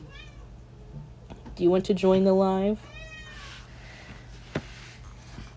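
A pet cat meows in a short, clear, drawn-out call with a rising and falling tone, close by in a quiet room, preceded by a person speaking briefly and followed by a faint squeak.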